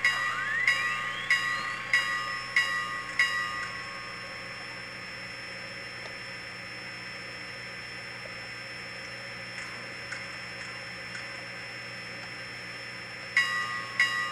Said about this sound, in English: Of course, the bell, shut it off.